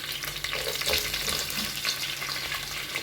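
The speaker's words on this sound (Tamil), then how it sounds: "இப்போ நம்ம வெங்காயம் போட்டுருவோம்" Onions sizzle and fry in a hot pan for a roadside-style salna gravy, a steady close crackle that holds without a break.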